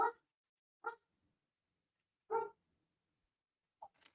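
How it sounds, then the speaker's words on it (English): A dog barks indoors, three short separate barks spaced about a second apart, then a softer bark or whimper near the end. Each one sounds moderately distant and the gaps between are silent, with no talking. "Dog must be seeing something outside"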